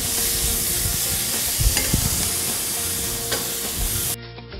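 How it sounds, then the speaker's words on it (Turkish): Onions and spinach stems frying in oil send up a loud, dense, continuous sizzle with a few stirring knocks, close and without talk, then the sound drops away abruptly at the end. "Yağımız erdikten sonra soğanlarla bu ıspanakların saplarını birlikte atıyorum içerisine."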